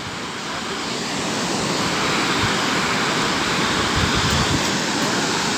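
Water rushes at the Muradiye waterfall, a loud, constant, broadband roar that swells slightly and continues without a break, with no voices.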